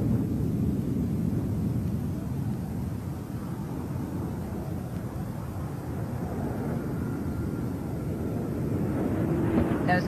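Space Shuttle Endeavour lands on its maiden flight, main gear touching down on the runway. A steady, broad low rumble of wind and rolling noise carries on throughout.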